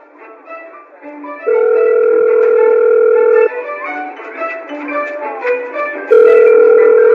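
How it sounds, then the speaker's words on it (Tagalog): A phone ringback tone on a call, sounding in two long steady tonal bursts separated by a pause with faint background between them, loud and clear with no talking. "Ayan, nagre-ring na."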